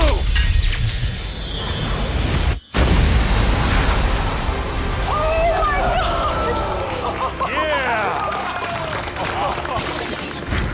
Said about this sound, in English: it made for such an epic explosion